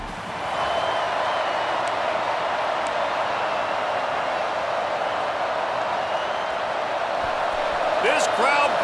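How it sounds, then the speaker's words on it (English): A college football stadium crowd makes a steady, dense roar that fills the whole stretch and swells slightly near the end, with a commentator talking over it. "This crowd bringing the energy and noise early"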